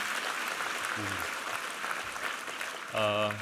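A church congregation at a Sunday service applauds a men's vocal ensemble, a steady wash of clapping that holds for a few seconds, with a brief voice breaking in near the end.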